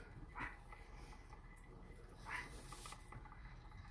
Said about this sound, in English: y'all can hear my dogs barking